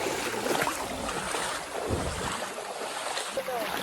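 Water rushes steadily down a monsoon stream on the Ayyarmala trekking trail near Palakkad, a broad continuous wash mixed with wind buffeting the microphone, with no one speaking.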